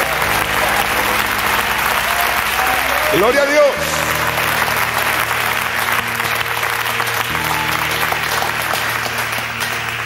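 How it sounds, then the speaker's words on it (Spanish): Sustained church congregation applause during a Spanish-language sermon, loud continuous clapping throughout, with someone speaking over it and a sustained keyboard chord underneath. "Dale un aplauso al Señor."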